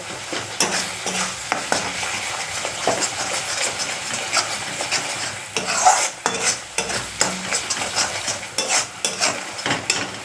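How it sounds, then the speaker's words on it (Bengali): Masala being stirred and sautéed in a pan as small splashes of water go in, giving repeated scraping strokes over a loud, continuous sizzle, with bursts of frying hiss that rise and fall; no one speaks. "অল্প অল্প করে জল দেবে আর কষাবে"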